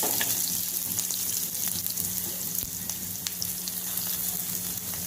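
Green chillies, sesame seeds, fennel seeds and curry leaves sizzle in hot oil in a pan, a steady, close, crackling hiss with small pops and no talking.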